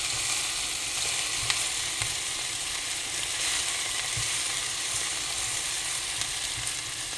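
Okra frying in a pan for a restaurant-style bhindi sabzi, a loud, continuous close sizzle with faint occasional scrapes of stirring underneath, unbroken and without talk.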